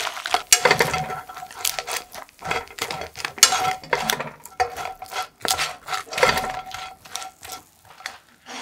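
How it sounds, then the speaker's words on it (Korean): Sliced rice cakes for tteokguk are tossed quickly in melted, browning sugar syrup in a pan over low heat. Steady, busy clattering and scraping scuffs repeat throughout, close and fairly loud, with no talking. "골고루 빠르게 설탕 시럽을 입혀줍니다."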